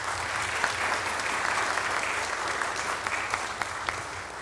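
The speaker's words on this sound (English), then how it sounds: "let's give him a round of applause" Council meeting attendees clap for a city employee, a sustained round of moderate applause from a smallish crowd with a few sharper claps standing out.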